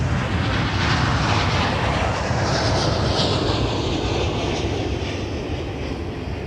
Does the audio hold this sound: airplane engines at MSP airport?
yes